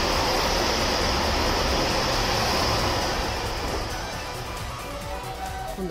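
A JR West Series 225 train rolls slowly through a Japanese station, a steady, loud broadband rumble and hiss of wheels and motors that eases and fades toward the end, with no one talking.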